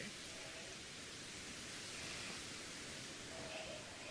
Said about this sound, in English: PC is just so much louder than the heater